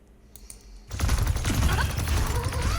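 An enemy turret in the Overwatch 2 video game opens up abruptly after a quiet start, a dense, loud burst of rapid gunfire that continues without a break to the end.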